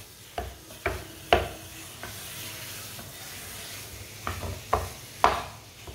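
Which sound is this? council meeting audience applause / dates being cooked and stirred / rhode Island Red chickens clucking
dates being cooked and stirred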